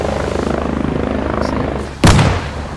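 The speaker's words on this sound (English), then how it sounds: "that helicopter just crashed into the ground and blew up" A helicopter crashes and explodes in the military shooter Squad: a steady rotor and engine drone gives way to a sudden loud, broadband blast about two seconds in, followed by a rumbling roar.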